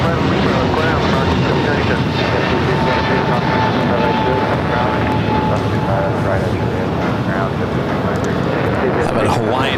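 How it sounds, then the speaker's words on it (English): An airliner's engines roar steadily close by as a Hawaiian Airlines A330 moves toward takeoff at LAX. The dense, continuous rumble holds throughout with no breaks. "How about Hawaiian A330 heading up to the north side for a takeoff?"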